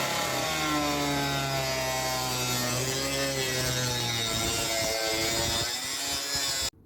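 A saw cuts through metal sheet being prepared for welding, producing a loud, continuous harsh whine with ringing overtones that holds steady for several seconds before stopping abruptly.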